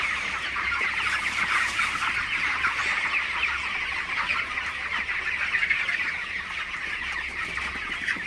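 A crowd of 25-day-old broiler chickens clucks and chatters continuously at close range, a dense steady flock with no voices.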